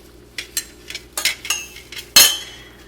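Dry bread dough ingredients, including flour and yeast, are mixed in a bowl with a utensil, giving a series of short scraping and clinking strokes that end in one louder knock, with no talking.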